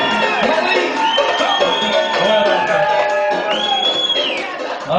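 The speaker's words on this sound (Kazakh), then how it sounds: "Екінші жұпқа шапалақ." An audience at a Kazakh stage event cheers for the second pair with a steady crowd din of shouting and whooping voices, loud at first and easing slightly toward the end.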